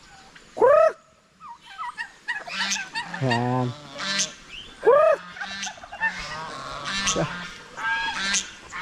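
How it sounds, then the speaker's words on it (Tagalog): Ducks and turkeys calling close by, with honking quacks and rapid gobbling bursts overlapping; a brief spoken word near the start. "Mga pato, pabo, may kalapati pa."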